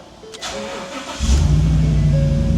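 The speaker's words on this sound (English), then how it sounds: "Fired right up, that's fantastic." A Ford F250 pickup at a junkyard, suspected of being a flood car, cranks briefly and then fires, settling into a loud, close, steady idle.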